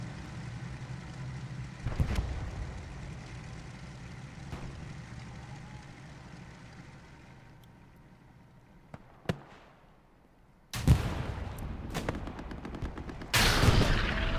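Rockets are fired in the Hell Let Loose World War II shooter on a night map, loud close blasts near the end following scattered distant shots and a low rumble.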